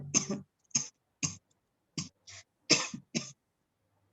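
Roughly seven separate coughs, short, sharp and evenly spaced, close up, with silence between them.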